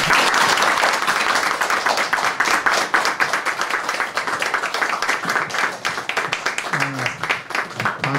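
An audience at an early-morning talk event welcomes a former finance minister with sustained, dense applause lasting several seconds, loud throughout, with a voice starting to speak as it tapers off.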